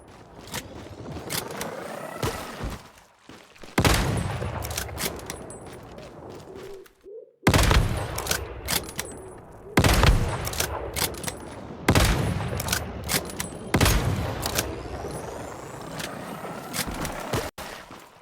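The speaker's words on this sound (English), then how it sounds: "Alright, so I got my sniper now. Yeah, don't worry, I got ammo." Sniper rifle fire in the survival shooter Once Human, several loud sharp shots spaced a few seconds apart over busy combat noise.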